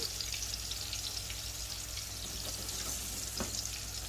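Sliced mushrooms and green chillies fry in a hot pan for spaghetti aglio olio, giving off a steady, close sizzle with faint crackles and occasional pops, no voices.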